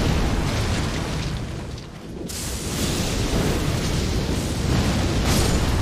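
A massive explosion spell detonates in Elden Ring, a loud roaring blast that dips briefly and then surges again into a sustained, rumbling burst filling the whole clip.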